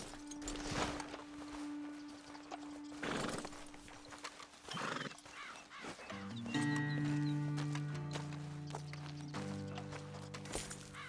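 Steady clip-clopping of horse hooves with a snort and whinny, over a low game soundtrack hum and later a rising musical drone.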